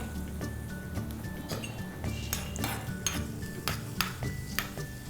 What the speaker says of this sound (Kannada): ಆ ನಂತರ ದ್ರಾಕ್ಷಿನ ಹಾಕಬೇಕು ದ್ರಾಕ್ಷಿನ ಹಾಕ್ತಾ ಇದ್ದೀನಿ